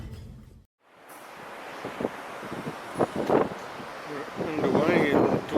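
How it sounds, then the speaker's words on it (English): Gusty wind buffets the microphone on a boat deck at dawn, a broad rushing roar that builds toward the end. A voice talks through it. "As you can hear, it's windy"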